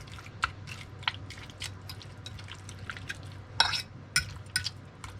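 Shrimp being tossed and stirred in a buttery cilantro garlic sauce, with soft wet clicks, drips and scraping utensil taps scattered through a low steady background hum, fairly close and quiet.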